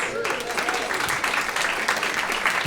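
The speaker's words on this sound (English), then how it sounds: "So a big round of applause for Lagunitas." Steady crowd applause rolls through a live event audience, a dense wash of clapping at moderate level, with some voices and murmuring underneath.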